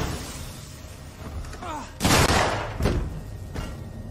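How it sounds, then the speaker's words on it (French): Gunfire in the video game Alien Isolation: a loud sharp blast followed by a second shot and a fainter third, with echoing tails, and a voice heard around the shots. "Là, il va y avoir du monde, hein, avec le bruit de coup de feu."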